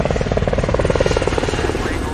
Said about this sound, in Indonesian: saat helikopter datang dan bersiap menjemput